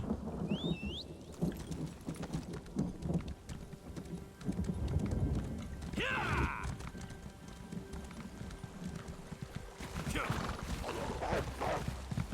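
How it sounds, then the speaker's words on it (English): Horse hooves clip-clopping in the Elder Scrolls Online video game, a steady, moderately faint patter of hoofbeats under game ambience with a brief whoosh midway and some talking. "Horsey time."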